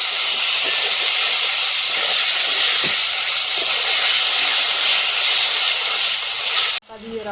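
Potatoes and peas with Kashmiri chili powder are sautéed in a pan, giving a loud, continuous close-up sizzle and hiss. The sound cuts off abruptly near the end.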